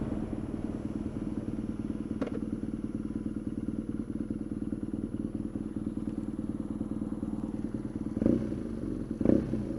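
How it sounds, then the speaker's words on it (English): A BMW R nineT motorcycle runs with a steady, low, throbbing engine and exhaust note at moderate volume, broken by a couple of brief clunks and thumps. "The exhaust notes takes a little getting used to"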